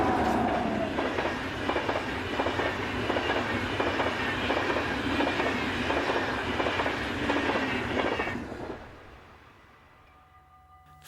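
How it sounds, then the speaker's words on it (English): A passenger train of ex-German Railways stock heading east from Den Haag to Venlo rolls past with a steady rumble and rhythmic clickety-clack of wheels over rail joints. The sound fades away as the train moves off. "These trains are formed of ex-German Railways passenger stock."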